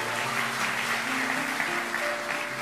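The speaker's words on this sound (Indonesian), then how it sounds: "Kasih tepuk tangan untuk Tuhan Yesus." A church congregation claps in sustained, dense applause for a few seconds, with no voices over it.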